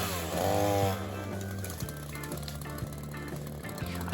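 A chainsaw runs close by next to a brick house foundation, one loud rising whine up front, then a steady idling drone broken by regular light knocks.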